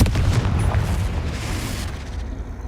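A Confringo fire spell explodes in Hogwarts Legacy, a loud rumbling blast that fills the whole moment and slowly fades.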